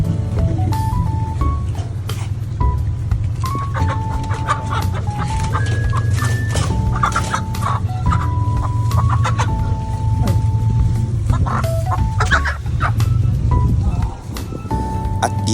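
Chickens at a Philippine market cluck and squawk continuously over a steady low engine-like hum, with busy chatter and clatter throughout.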